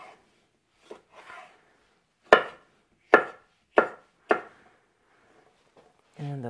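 A knife chops peppers and cucumber on a cutting board during home meal prep, giving four sharp, evenly spaced close chops after a few lighter taps, with a brief voice at the end.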